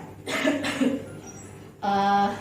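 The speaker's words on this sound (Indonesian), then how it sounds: "Adek tarik nafas selama 2-3 detik, setelah itu batukan secara kuat" Two short forceful coughs in quick succession from a child clearing choking, followed after a pause by a brief voiced sound, close and fairly loud.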